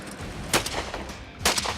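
Shotgun shots fired at clay pigeons outdoors, two sharp distant-sounding reports about a second apart over a noisy, windy background.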